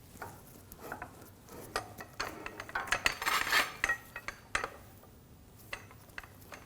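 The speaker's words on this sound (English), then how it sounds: "I'm just going to move the pull jack out of the way so I can access the other bolts." A pull jack is shifted under a 2007-2013 BMW 328i during rear coil spring work, giving rattling metallic clinks and ratchety scraping, busiest in the middle and tapering to scattered quiet taps.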